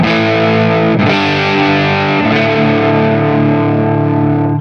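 Distorted electric guitar on the neck pickup playing sustained chords, thick and loud, with two brief strum changes and ringing overtones throughout; no voices.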